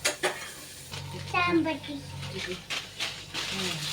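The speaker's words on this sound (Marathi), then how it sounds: "ते बटर लावून गरम करून घ्यायचे आम्हाला" Pav bread heats with butter in a pan, giving a steady sizzle broken by scraping, stirring clatter against the pan, heard close up with voices talking.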